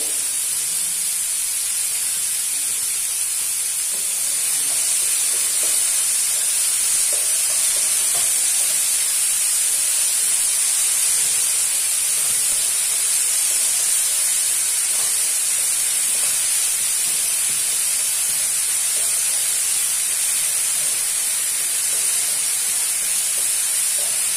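Masala with a pinch of salt sautés in a pan for paneer kofta curry, giving a steady, even sizzle and hiss that runs on without a break, with no voices.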